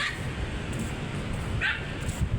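A small dog gives a couple of faint, high yips over low background rumble, with a short gap between them.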